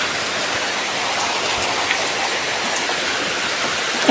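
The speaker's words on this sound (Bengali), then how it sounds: "একভাবে বৃষ্টি হয়ে যাচ্ছে" Steady rain pouring down outdoors during a heavy monsoon spell, a loud, dense, unbroken hiss of drops hitting surfaces close by.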